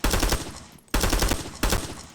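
M16 rifle on automatic fire in the Vietnam-era shooter Rising Storm 2: Vietnam, heard as three loud, close rapid bursts separated by short pauses.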